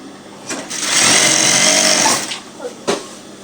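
A sewing machine stitches bed sheet fabric close by, a fast steady whirring run of about a second and a half between short bursts, with someone speaking over it.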